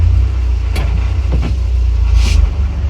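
A Renault Twingo under restoration runs with a steady low engine drone close by, while a few faint clicks and clunks come as the gearbox is shifted through its gears.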